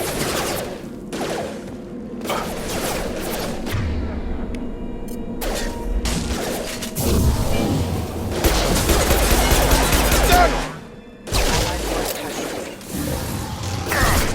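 Rapid gunfire and mechanical clatter fill a firefight against mechs in the video game Mass Effect 2, loud and continuous with dense overlapping shots and low booms.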